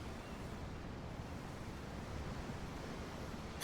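Steady ocean surf washes against a ship at sea in the fantasy video game Tales of Arise, a continuous, even roar of waves and wind with no voices.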